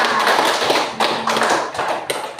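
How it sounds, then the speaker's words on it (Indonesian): Students in an Indonesian school classroom applaud a classmate during a lesson, a dense, steady patter of many hands clapping close by for about two seconds with no talk over it. "Berikan dulu tepuk tangan buat Satria"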